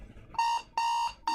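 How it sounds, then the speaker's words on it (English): A harsh electronic alarm clock beeps in short repeated bursts, each a bright steady tone lasting about a quarter second with brief gaps, fairly close and alone. "Horrible alarm clock noise."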